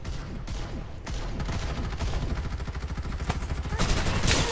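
Gunfire hitting the player in the shooter game Farlight 84, rapid loud bursts of automatic fire rattling close by, growing denser and heavier toward the end.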